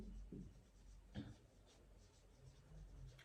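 A sentence being written by hand, faint close scratching strokes of the pen in short bursts separated by brief pauses, with a quiet room and no talking.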